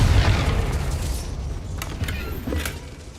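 A Confringo fire spell explodes in Hogwarts Legacy, a loud booming blast at the start that rolls off into a rumbling tail, with a couple of fainter bursts and crackles following.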